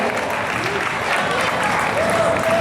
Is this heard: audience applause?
yes